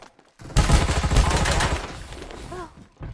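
A rapid burst of gunfire in a video game, a dense volley of shots lasting about a second and a half, followed by short electronic tones and a final shot.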